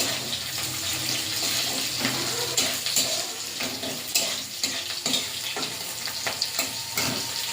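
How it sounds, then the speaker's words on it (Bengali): Onions half-fried in a pan for a village-style fish curry sizzle steadily throughout, with scraping stirring strokes breaking through at close range and no voices. "পেঁয়াজটা হাফ ভাজা ভাজা করে নিয়ে নেব"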